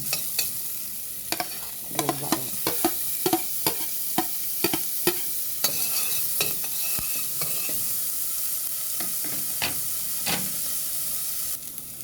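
Garlic fries in a pan for an arroz caldo, a steady hiss of sizzling oil broken by frequent sharp scrapes and taps of a spatula stirring.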